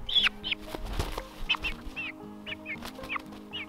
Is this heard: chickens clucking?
yes